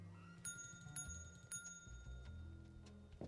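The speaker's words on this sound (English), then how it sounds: "Ring for service." A service bell on a hotel front desk in the video game Dark Deception is struck three times in quick succession, each a bright metallic ding with a ringing tail, followed by low thuds.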